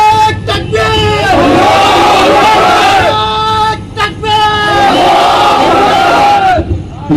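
A large crowd roars a chant back in unison, two long swelling waves of many voices shouting together, loud and echoing across an open gathering with a brief pause between them.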